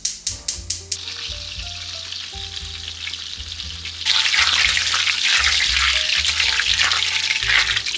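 Butter browning in a light-colored pan, a few quick metallic taps, then a continuous close sizzle that surges louder and hissier midway, steady and without talk.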